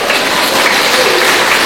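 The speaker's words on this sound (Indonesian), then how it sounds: "Nggak usah tepuk tangan" A church congregation applauds during a sermon, producing a loud, dense and continuous roar of many hands clapping. It holds steady throughout with no break.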